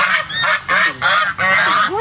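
A goose honks repeatedly and loudly at close range, a series of harsh nasal calls in quick succession with brief gaps between them, and no speech over them.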